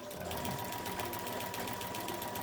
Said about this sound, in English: So I'm doing the stitching in the ditch because I don't want an overall design.